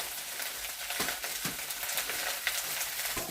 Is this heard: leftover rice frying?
yes